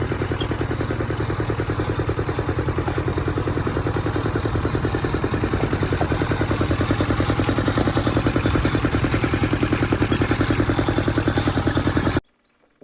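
A John Deere 316 garden tractor fitted with a Kubota diesel engine is driven nearby, its loud, steady, clattering engine rumble running without pause before cutting off abruptly at the end.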